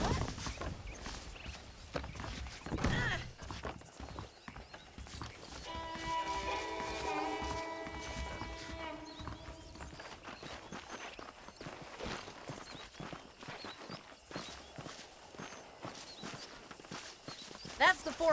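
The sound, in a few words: horse hooves clip-clopping, from a video game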